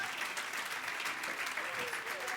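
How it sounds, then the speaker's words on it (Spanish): A Spanish-speaking church congregation, standing, gives steady, enthusiastic applause of praise to the Lord, a continuous wash of many hands clapping at moderate distance with faint voices mixed in. "dale ese aplauso de alabanza al Señor"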